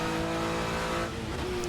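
An Acura NSX GT3 EVO race car engine in Assetto Corsa at Mount Panorama holds a steady, buzzing high-rev drone, then its pitch shifts sharply near the end, loud and close with no voices over it.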